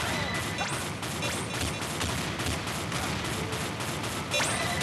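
Rapid, overlapping gunfire and explosive bursts from a video game, dense and continuous with repeated sharp impacts, loud throughout with a couple of rising whistles.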